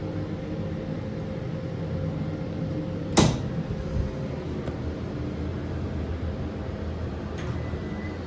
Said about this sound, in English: let's see how these doors do for an update. Alright, still slamming closed.